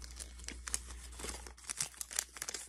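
Crisp Bazooka Joe gum wrapper crinkling close by, a run of sharp rustles and crackles in uneven bursts with no talking.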